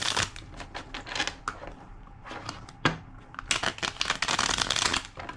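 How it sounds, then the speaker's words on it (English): A deck of cards is riffled and shuffled in several quick bursts, crisp and close, ending in a longer flurry. "2 more shuffles."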